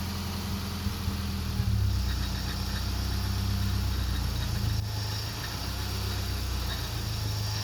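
A Nissan S14.5 car engine idles steadily with a low, continuous rumble and hum; the rhythm wavers slightly now and then from a slight misfire, giving an uneven beat.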